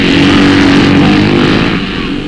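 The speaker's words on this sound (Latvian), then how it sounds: "Starts 350 kubikcentimetru klases motocikliem." A pack of 350 cc motocross motorcycles roars off the start of a Soviet-era championship race on a tough track, loud and close. Overlapping engines blare as one continuous, slightly fading howl.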